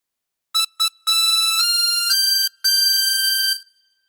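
Chromatic harmonica playing a phrase of the Star Spangled Banner: two short reedy notes, then a longer sustained run of bright, steady tones with a brief breath break before the final held note, clear and solo.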